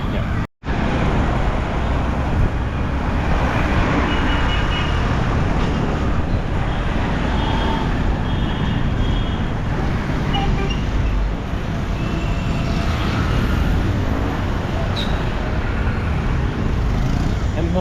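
Kathmandu street traffic passes around a motorbike on a ride, a continuous roar of engines and road noise that is close and loud, with a few horn beeps and one brief dropout.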